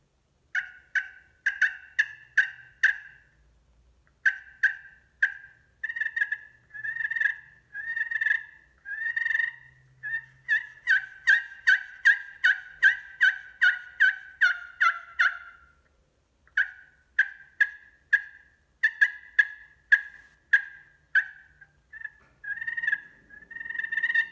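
Friction turkey calls scratched to imitate a gobbler, producing rapid runs of sharp yelps, clucks and purrs in quick repeated bursts, loud and close with brief gaps between sequences.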